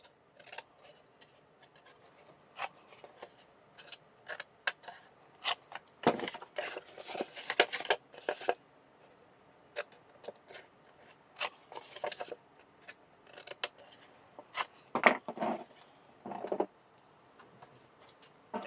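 Scissors snip the corners off a paper pocket for a handmade card-and-envelope mini album, with short crisp cutting bursts in two clusters separated by quieter handling noise.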